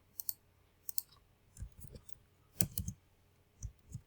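A computer mouse being right-clicked: sharp, dry clicks close by, some in quick pairs and others spaced out, over a quiet room with soft low thumps between them.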